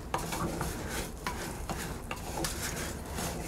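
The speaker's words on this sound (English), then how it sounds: "I've got to stir this for about 4 minutes" Arborio rice for a Tuscan risotto with beans is stirred in a pot, giving repeated scraping strokes of a spoon over a soft sizzle, close and fairly steady, with no voices.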